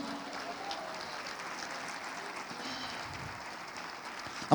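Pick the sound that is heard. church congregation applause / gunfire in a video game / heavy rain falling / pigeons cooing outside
church congregation applause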